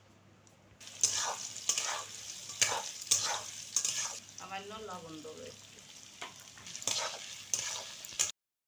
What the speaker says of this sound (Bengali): তেলটা গরম হয়ে গিয়েছে, আমি এবার গাজরটা দিয়ে দেব।